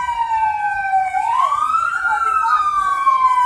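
A fire truck siren wails loud and steady as firefighters arrive at a house fire in Malolos City, its tone sweeping down and then rising again over a faint background rumble.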